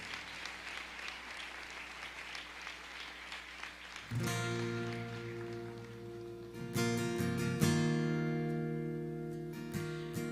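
A church congregation at a family service claps steadily as one dense, even wash of applause. Partway through, sustained instruments and singing come in and play over it.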